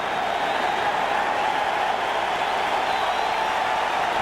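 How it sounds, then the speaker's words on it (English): Crowd at an Arizona ballpark during a 2001 NLCS playoff game, a steady broad roar of many voices and clapping building on a full count, continuous and distant. "It is less than a capacity crowd here in Arizona, but they make noise in a 3-2 to Chipper Jones"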